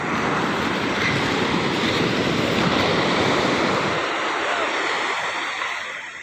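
Sea waves break on the shore at Vasai, a continuous loud, hissing wash of surf that eases and fades toward the end. No voices are heard.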